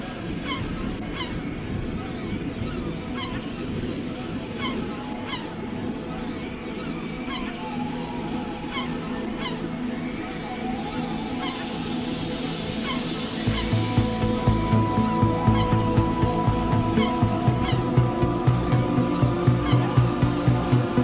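Seabirds calling above the Île des Landes off Pointe du Grouin in Brittany, repeated honking cries spread across a steady outdoor background, with a louder continuous low noise, like wind or surf, joining midway.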